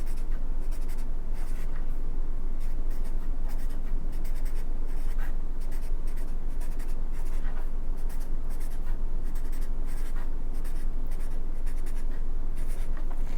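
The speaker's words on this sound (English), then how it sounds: "across their name, you're going to write your name" Pen scratching continuously across paper while a name is written, close and steady with short rhythmic strokes and no talking.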